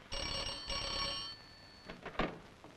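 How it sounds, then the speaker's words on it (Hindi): A telephone bell rings in two bright electric bursts indoors in a comedy scene from the Hindi film Raja Jani, followed by quieter rustling and handling sounds. "टेलीफोन।"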